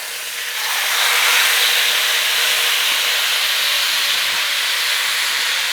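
Steak cooking in rendered fat in a pan at a Honduran street food stall gives a loud, dense, continuous sizzling hiss that swells in within the first second and holds steady.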